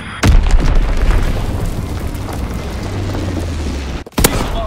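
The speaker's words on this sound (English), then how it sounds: "Incendiary bombs incoming." Heavy incendiary bombs blast in a WWII shooter game, a sharp loud boom opening into a long rumbling roar of fire and debris, then a brief drop and a second close impact near the end, no talking.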